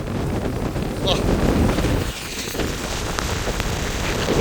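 Strong wind roars across an open outdoor spot on the Jaffna coast, tossing trees and crops, with steady rushing buffeting on the microphone throughout and a short lull midway.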